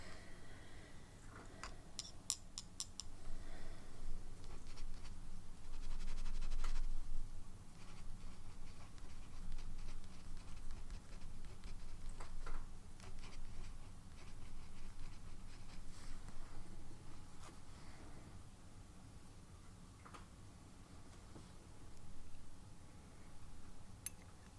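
TWSBI Mini fountain pen writing on paper, soft close scratchy strokes in short bursts with brief pauses, quiet and intimate with no talking.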